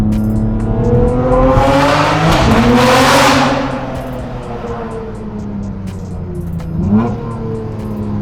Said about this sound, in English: Now that is part thank you to Valvetronic for the upgraded exhaust system, but this thing barks.